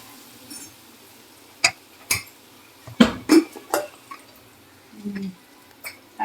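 A pressure cooker holding boiled bottle gourd is opened in a home kitchen, giving a series of sharp metallic clanks and taps from the lid and vessel, spaced irregularly with a soft low hiss between them.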